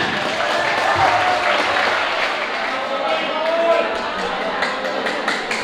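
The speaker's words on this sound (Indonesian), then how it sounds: "Sekali lagi tepuk tangan yang meriah untuk peserta Andi Gunanda." A school audience claps through a language-month celebration at SMK Maharati in 2024 after a speech contestant finishes. Dense, steady applause fills the whole stretch with a few louder swells, and faint voices murmur underneath.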